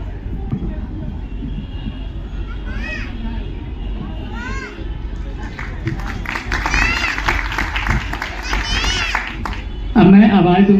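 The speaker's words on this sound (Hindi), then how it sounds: "तो एक बार जोरदार तालियां विनीता मिश्रा जी के लिए" A crowd at a fair ceremony on Patna's Gandhi Maidan breaks into a loud, sustained wash of clapping for several seconds, rising over a busy outdoor murmur while an amplified voice talks.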